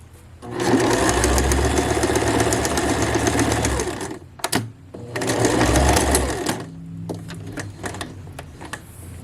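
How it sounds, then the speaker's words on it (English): A sewing machine hems a dress in a long steady run, then stops briefly and stitches forward again before backstitching, with a short slower burst near the end, close and clear. "go a little bit further and then backstitch"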